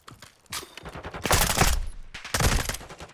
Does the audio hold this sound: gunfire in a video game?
yes